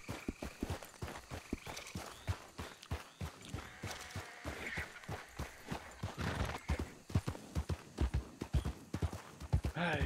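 Horse hooves clip-clopping in Red Dead Redemption 2 (RedM), a steady rhythmic run of close, distinct hoofbeats that grows slightly louder toward the end, with faint talk underneath.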